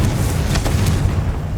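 A Confringo blasting spell erupts in Hogwarts Legacy as one loud, sustained booming rumble with crackling bursts layered on top. No voices are heard.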